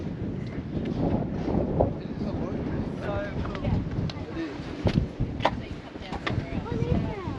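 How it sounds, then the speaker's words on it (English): Strong wind buffets the microphone in a constant rushing roar at Kings Canyon, Northern Territory, with faint voices now and then beneath it. "Very windy."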